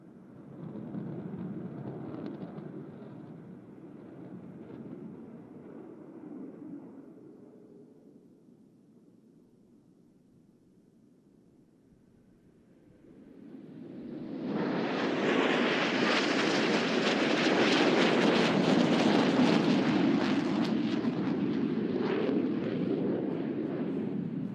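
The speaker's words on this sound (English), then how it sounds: "All 4 pilots will simultaneously roll their aircraft 360 degrees as they perform the Diamond aileron roll." Four jet aircraft fly a diamond aileron roll at the NAS Oceana air show, one engine roar that fades to a low lull and then swells into a loud, broad jet rush close overhead.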